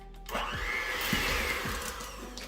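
An electric mixer creams cream cheese with a sugar substitute for a keto chocolate pound cake, giving a steady whirring drone with rhythmic thumps of the beaters against the bowl.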